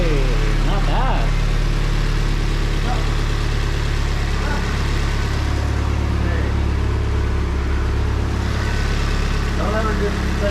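A 1999 NB1 Mazda Miata engine with a Skunk 2 intake and throttle body idles with a steady low drone, and people talk over it throughout.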